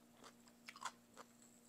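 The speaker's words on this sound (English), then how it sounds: "You hear that crunch?" Someone chews braised goby fish with pickled papaya, a few quiet close crunches and bites scattered over a faint steady hum, without talk.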